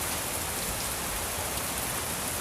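Heavy downpour in Korea, a dense, steady hiss of rain hitting surfaces, loud and unbroken with no voices.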